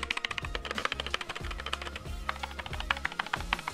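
A GK61 mechanical keyboard typed on steadily, giving a string of crisp, clicky, close-up keystrokes in a quick uneven rhythm, with a deeper clack on some presses and no talking.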